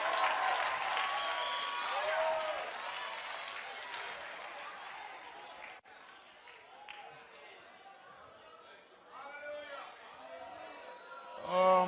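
A church congregation claps and cheers during a lively sermon, a broad wash of applause and crowd noise that swells at the start, fades through the middle and rises again near the end, with a preacher's voice shouting over it.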